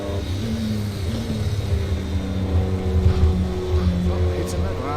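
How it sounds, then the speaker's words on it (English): A deep, low LMP1 hybrid race car engine droning steadily in a racing video game, a close continuous hum with slight rises, under a voice talking. "Still got that low groundy engine."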